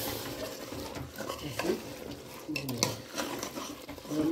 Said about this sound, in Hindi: थोड़ी थोड़ी देर बाद इसको हिलाते रहेंगे और हम इसको भूनते रहेंगे मसाले को